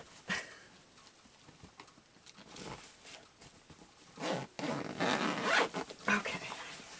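A bag zipper with eyelash fibers caught in it is worked open and shut, giving short scratchy zipping runs with small clicks, growing louder and denser toward the end.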